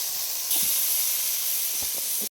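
Potatoes drop into hot spiced oil. The gentle hiss jumps into a loud, bright sizzle that holds steady with a few faint knocks, then cuts off abruptly.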